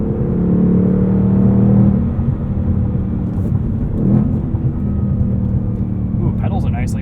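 A 2022 Ford Mustang Mach 1 with a manual gearbox and handling package, its engine droning loud and steady, then surging briefly in a quick rev-matched blip before settling back into a low rumble from inside the cabin.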